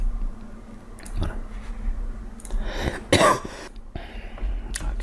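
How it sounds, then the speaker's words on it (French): A single short cough sounds close to the microphone, surrounded by faint throat noises and quiet room sounds. "Excusez-moi, une petite toux."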